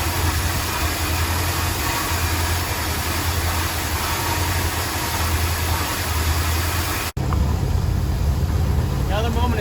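A 1968 Ford F250 engine idles steadily with a low, rumbling drone throughout after Marvel Mystery Oil has been added, cutting off abruptly near the end and leaving quieter background noise.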